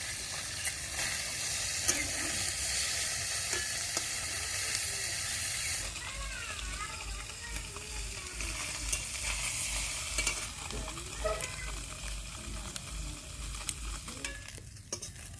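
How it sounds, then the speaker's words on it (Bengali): Small mourola fish fry in hot oil in a pan, giving a steady loud sizzle with occasional spatula stirring scrapes throughout, no voices. "দেখো মাছ ভাজা হয়ে গেছে এবার আমি তুলে নেবো"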